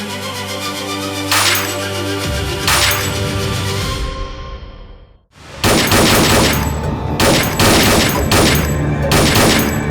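Bursts of rapid gunfire crackle loudly, several volleys in quick succession, with a brief lull in the middle before heavy firing resumes.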